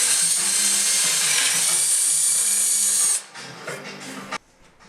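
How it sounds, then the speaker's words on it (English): A small high-pitched electric drill whines steadily while boring an angled pilot hole into wood for a curved, tapered mortise, then spins down and stops, followed by a few faint handling sounds. "Now I'll drill an angled pilot hole by eye"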